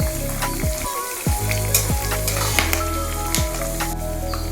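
Curry leaves fry in hot oil in a pan for an avalakki (flattened rice) tempering, giving a loud, steady sizzle and crackle with a few sharp pops and stirring scrapes throughout.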